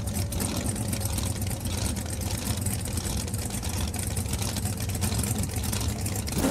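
Supercharged blower engine of a car in BeamNG.drive, a continuous low rumbling drone with a rough, dense texture, steady and loud throughout, no talk over it.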